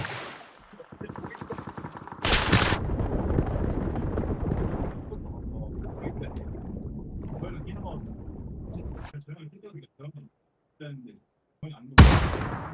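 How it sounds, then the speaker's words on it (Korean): A grenade blast in the battle game PUBG erupts as a loud broadband burst, followed by a long rumbling decay with game noise and talk underneath, then a second sharp blast near the end. "수류탄 맞고 죽었어요"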